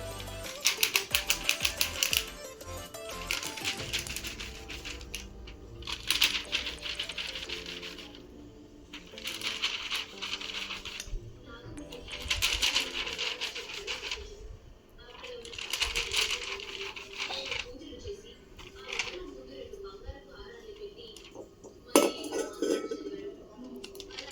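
Peanut chikki is pressed flat with a wide-bottomed bowl, giving a run of close, rhythmic clinks and scraping knocks of metal on a hard surface in bursts across the stretch.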